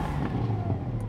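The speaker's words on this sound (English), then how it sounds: "I am going to switch on sports exhaust." A Porsche 718 GT4 with its sports exhaust switched on, a low, steady engine drone heard from inside or near the car, fairly quiet and continuous over the short stretch.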